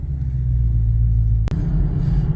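A Plum Crazy purple car cruises down the road, giving a steady, loud low rumble of engine and road noise from inside the cabin, with one brief dropout midway.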